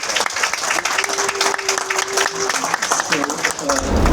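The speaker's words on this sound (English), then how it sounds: "they really deserve a big round of applause" Applause for the cruise ship crew at the captain's party aboard a Princess cruise, a dense burst of crowd clapping with voices mixed in, steady and fairly loud before thinning at the end.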